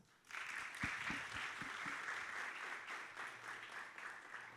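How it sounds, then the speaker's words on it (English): A large audience applauds the leaders at a hospitality leadership event, steady sustained clapping that swells in quickly and continues throughout, with a few low thumps early on. "let's give our esteemed leaders a huge round of applause"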